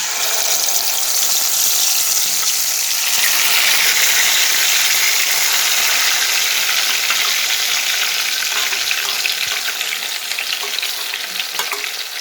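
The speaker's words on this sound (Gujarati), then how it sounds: "સૌ પહેલાં આપણે જે પેસ્ટ રેડી કરી છે એને આપણે આમાં એડ કરી દઈશું." Spice paste hitting hot tempering oil for a Gujarati methi potato dish, a loud, bright, continuous sizzle that holds steady for several seconds before easing slightly, with no talking.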